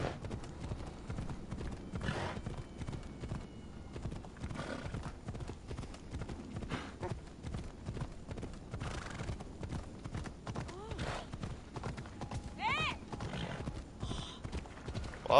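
Horse hooves clip-clopping steadily in the video game Assassin's Creed, with an occasional whinny, a rhythmic trot under faint game music and a little talk.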